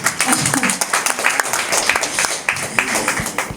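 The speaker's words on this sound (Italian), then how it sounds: "farei comunque un applauso anche se si interrompe un po'" Audience at a book presentation breaking into applause, dense irregular clapping from a sizeable crowd, close and fairly loud for a few seconds.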